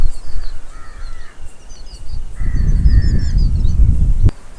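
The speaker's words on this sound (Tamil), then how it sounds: "பின்னாடி பறவைகளுடைய சப்தம்லாம் சூப்பராக இருக்குங்க" Crows caw and other birds call outdoors at a Hindu temple near Mettupalayam, a few scattered calls over a low rumbling background, with no talk.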